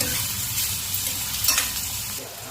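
Bitter gourd pieces frying with browned onion in a pan, a steady close sizzle with stirring scrapes throughout and no talking.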